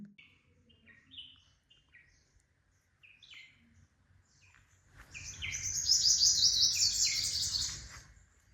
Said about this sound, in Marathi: फक्त पक्ष्यांचा आवाज.